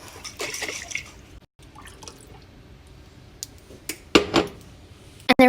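Water sloshes and rattles inside a glass mason jar that once held cooked spaghetti squash, arriving as a few sharp bursts of shaking near the end after quieter clinks and handling sounds, close and with no talking.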